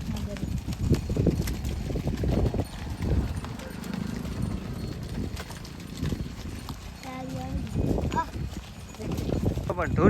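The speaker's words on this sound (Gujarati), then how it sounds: "દોડી હો ગાયું" A herd of Kankrej cows runs across open ground, their hooves drumming in a loose, continuous patter up close while someone talks excitedly over it.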